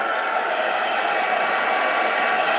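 A heat tool blows hot air continuously to heat powder, a steady, loud, even whoosh with a faint high whine that holds without change throughout.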